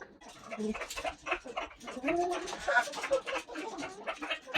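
Chickens feeding on cut mature bottle gourd leaves, with soft clucks and bird calls close by mixed with rustling and pecking noises throughout.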